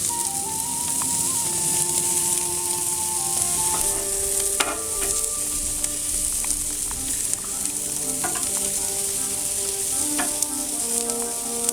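Cubano peppers sizzle steadily on a hot grill, a loud, close, continuous crackle with scattered pops and no talking throughout.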